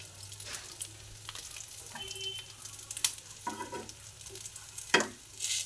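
Onion fries with a sprinkle of garam masala in a pan, giving a soft continuous sizzle close by, broken by a few sharper scrapes and tosses of the spoon.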